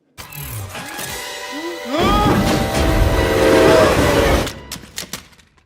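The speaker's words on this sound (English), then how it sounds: "walking on a train rail, walking south, being met by a locomotive coming north" A locomotive on rails rumbles in loudly, with long horn-like tones ringing over the heavy rolling noise, then cuts off into a few scattered clanks near the end.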